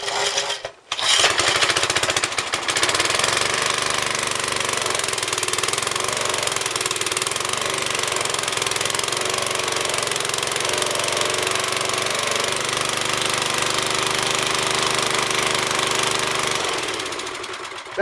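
A 1966 rototiller engine with electronic ignition runs wide open at full throttle, a loud, steady rapid-firing buzz that holds for over fifteen seconds before easing off, with no talking.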